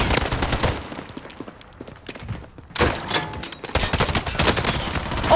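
Rapid bursts of gunfire crackle in a shooter video game, with loud clustered shots, a brief quieter lull, then another dense volley.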